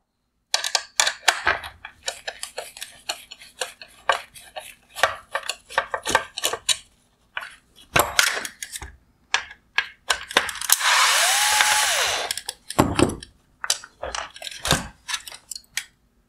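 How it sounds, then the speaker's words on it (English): A 9mm nut being worked off a 2019-2021 Porsche Cayenne LED headlight, heard as close bursts of sharp ratcheting clicks, broken midway by a loud steady whir of a powered tool. "Next, I'm going to remove the 9mm nut."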